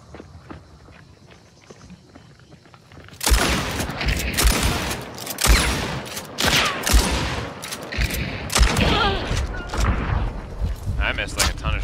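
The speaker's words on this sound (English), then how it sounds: "I missed like a ton of shots. I was not expecting it to fire that fast." Rapid loud shotgun blasts from the Slate shotgun in the game Hunt: Showdown crack out in a quick irregular series after a quieter start, with players talking over the action.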